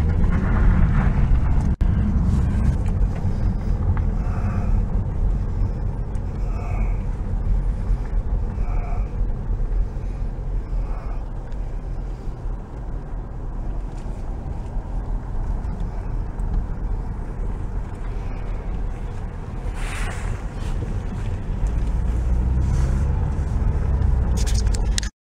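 A car interior rumbles with steady low road and engine noise during a Christmas Day drive toward the Kennebecasis River, a continuous loud drone with occasional faint knocks.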